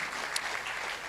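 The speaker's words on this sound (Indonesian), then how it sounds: "Tepuk tangan lagi itu Mbak Agus." A church congregation claps together in a short burst, a dense, even patter of many hands across a large room, steady in level for about a second.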